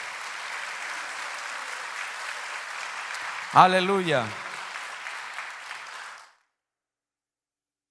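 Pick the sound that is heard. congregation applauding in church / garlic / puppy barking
congregation applauding in church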